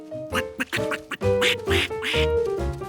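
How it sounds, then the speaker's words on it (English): Cartoon ducklings quack as they hatch, a run of bright, nasal quacks in quick uneven bursts, close and clear with no talking. "A duck is hatching right before my very eyes."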